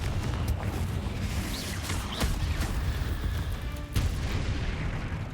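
A fiery Confringo spell blast in a Harry Potter video game, heard as a dense, loud explosive boom that rolls on for several seconds with sharp cracks and crackling debris and no talk.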